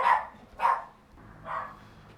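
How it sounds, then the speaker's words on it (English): Several dogs bark in short separate bursts, three distinct barks spaced across a couple of seconds, moderately close and with no talking over them. "Dogs."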